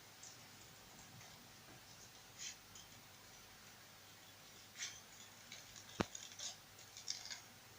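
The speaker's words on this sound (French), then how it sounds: "je vais couper. Alors je coupe un peu plus large pour pouvoir coller sous mon cadre" Scissors cut white card in a series of faint, scattered snips and small clicks, with one sharper snip near the end, against a quiet background.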